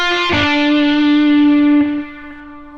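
An electric guitar through a Positive Grid Spark amp with the echo filter effect, a single loud sustained note ringing out with a shimmering echo tail that gradually decays.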